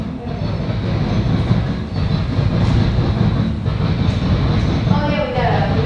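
Norfolk Southern freight trains meeting in Marion, Ohio, one rolling past close by with a steady heavy rumble and rail clatter for the whole span, while people talk over it.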